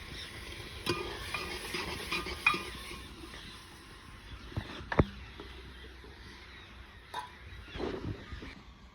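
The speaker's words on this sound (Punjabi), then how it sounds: "ਤੜਕਾ ਹੀ ਲੱਗਦਾ ਪਿਆ" A tadka of tempering for potato pakora curry is stirred in a pan, with scattered scraping and clinking of a utensil over a faint, low sizzle. The sounds come in irregular bursts, close by, and there is no speech.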